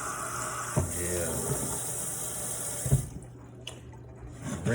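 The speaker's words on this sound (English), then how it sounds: "Rinsing them in that cold water" Cold tap water runs steadily as cooked noodles are rinsed in a sink, a continuous splashing stream with a couple of thumps, cutting off near the end to quieter drips.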